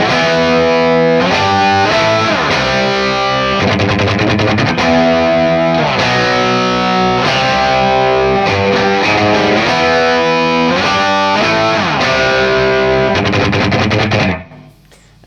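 A heavily distorted electric guitar plays a riff, loud and dense with fast repeated picking and shifting chords, cutting off abruptly at the end.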